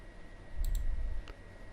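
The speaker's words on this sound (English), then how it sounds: "So just double click it to run or open this software." A computer mouse double-click, two quick faint clicks close together followed by a single softer click a moment later, over a quiet background hum.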